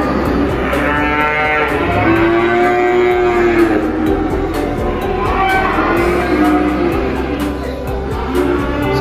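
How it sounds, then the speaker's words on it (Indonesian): Simmental and Limousin cattle at a traditional Minangkabau livestock market low and moo repeatedly, several drawn-out calls overlapping amid constant crowd and market noise. "Sapi simental limosin."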